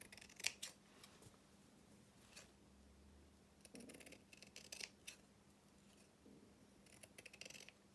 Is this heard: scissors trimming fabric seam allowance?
yes